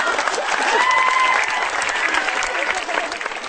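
A studio audience at a stand-up comedy show in Indonesia claps and cheers continuously for a comedian, dense and loud throughout, with a few whoops rising above the applause.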